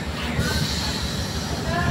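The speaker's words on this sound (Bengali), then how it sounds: "জাস্ট একটা ট্রেন এসে থামলো এখন" A train pulling into a station and coming to a stop, heard as a low steady rumble and faint hiss of rail cars settling, with voices murmuring over it.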